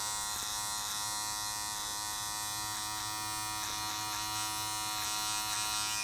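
Electric beard trimmer cutting a beard with its guard lever raised to about a 1.5 length, a steady close buzz throughout with faint scraping pulses as it passes over the hair, no talking.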